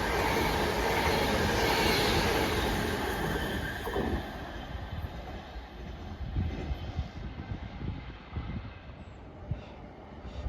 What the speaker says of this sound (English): There's 39127 Avanti West Coast service to London Euston from Manchester Piccadilly.